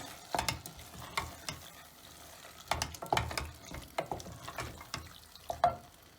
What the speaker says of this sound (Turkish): Şöyle güzelce karıştırıyorum.